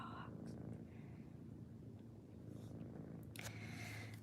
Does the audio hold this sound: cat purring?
yes